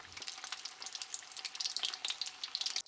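Crab cream croquettes deep-fry in hot oil, giving a dense, close crackling sizzle with rapid bubbling pops that runs steadily throughout with no talking.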